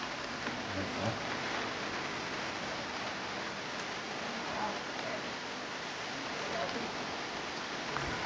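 Rain falling steadily at the Arca Domas site, a dense even hiss of drops with no breaks, moderately quiet and continuous.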